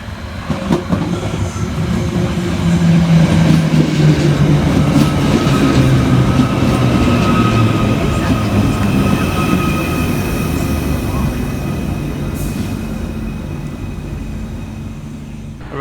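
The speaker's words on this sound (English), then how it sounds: "Arriving next into the station is 777-152, working the 11:31 Merseyrail electric service from Headbolt Lane through to Liverpool" A Merseyrail class 777 electric train, unit 777-152, pulls into a station on the Northern and Wirral lines with a loud, sustained rumble, wheel clatter and a rising electric whine, easing slightly toward the end; no one speaks.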